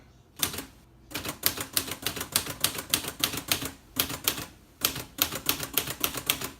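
Numbers and symbols are typed on a 1966 Olivetti Underwood Lettera 32 manual typewriter, producing close, crisp keystrokes in a fairly even rhythm, broken by a few short pauses between runs.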